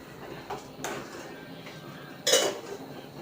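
A pot of semiya payasam is shifted on a hot stove, giving a few sharp metallic clanks and scrapes of cookware, the loudest knock near the end, close and clear with no talking.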